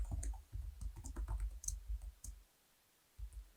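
Typing code on a computer keyboard, a quick run of close clicking keystrokes in uneven bursts, then a short pause and a few more keys at the end.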